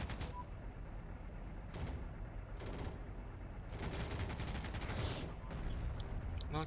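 Gunfire crackles through a tank battle in a war video game, with repeated bursts of shots layered over continuous mechanical rumble, a few sharper volleys standing out near the middle and end.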